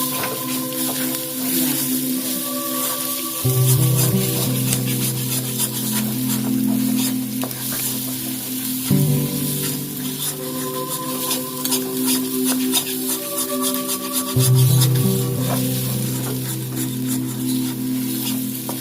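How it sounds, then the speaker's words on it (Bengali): Egg fried in a kadai for egg pasta, stirred repeatedly: a loud, close sizzle with three scraping stirring passes that swell and fade at regular intervals, no voice over it. "ভালো করে নেড়তে হবে যাতে লেগে না যায় কড়াইয়ে ভালো করে নেড়ে ঝুরঝুরে করে নেবেন"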